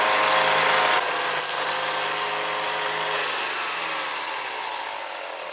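A cordless battery-powered string trimmer whirs with a high, steady motor whine that gradually slows and fades as it winds down.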